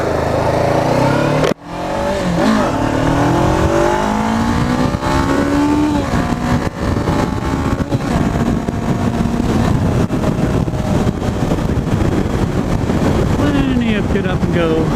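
Honda CBR500 motorcycle accelerating on the road, engine pitch sweeping up through the gears as a loud, steady drone with heavy wind rush, a brief cut near the start, and speech mixed in.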